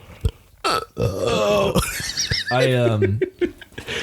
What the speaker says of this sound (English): That burp was sudden and it needed to happen.